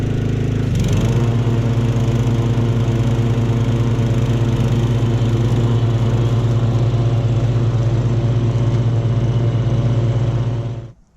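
A Simplicity Broadmoor five-speed garden tractor with a 15 hp Briggs and Stratton engine starts up and idles steadily, a loud, even mid-pitched engine drone that holds for about ten seconds before cutting off abruptly.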